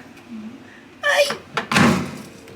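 A microwave door thunks shut up close, followed by a short latch click, with a quiet voice murmuring beforehand.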